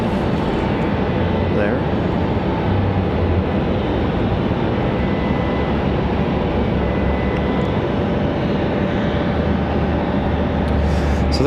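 A Frontier airliner departs for Boston from Raleigh-Durham, its engine roar a steady, loud broadband rush lasting throughout, with a brief spoken word over it.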